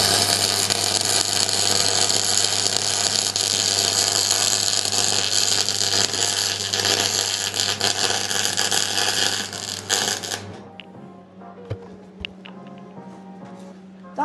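Arc welder working on metal: a loud, continuous electrical buzz and crackle over a steady low hum for about ten seconds, then it cuts off and leaves quieter background noise.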